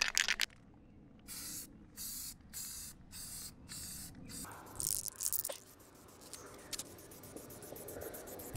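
An aerosol spray can paints a transmission skid plate on a makeshift stand, hissing in a series of short, regular bursts up close, followed by quieter intermittent handling noises.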